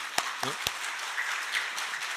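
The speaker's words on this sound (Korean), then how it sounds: "우리 박수 한번" Congregation applause during a Korean church Sunday service, a steady wash of clapping heard faintly behind a few sharp spoken syllables at the start.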